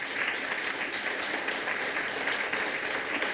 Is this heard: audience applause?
yes